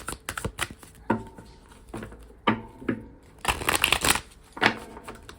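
Tarot cards being shuffled by hand, close and crisp, in repeated bursts of riffling and slapping separated by short pauses.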